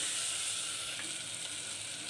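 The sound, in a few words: ginger garlic paste sautéing with onions, mint and coriander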